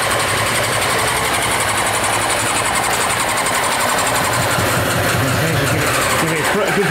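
A Yamaha motorbike with carburettors that have been cleaned starts up and settles into a loud, close, steady idle. The engine drones without pause, and people talk over it.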